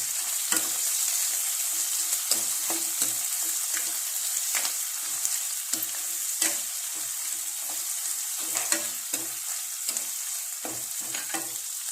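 Two onions frying in oil with coriander and cumin for mushroom kadubu, a bright continuous sizzle broken by frequent rhythmic spoon scrapes and knocks against the pan.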